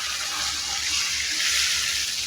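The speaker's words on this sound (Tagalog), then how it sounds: "Tapos maglalagay ako dito ng tubig." Water pours steadily into a soup pot of sotanghon soup seasoned with fish sauce, a continuous close hiss of liquid lasting the whole moment with no talk.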